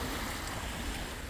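Waves washing on Mille Lacs Lake in Minnesota at night, a steady broadband wash of water and wind that fills the whole moment without clear individual breakers.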